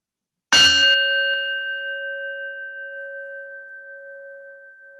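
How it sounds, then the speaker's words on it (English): A singing bowl is struck once and rings on, its clear sustained tones slowly fading in a quiet room during a vespers service. "We hold these prayers in our hearts with the ringing of our singing bowl."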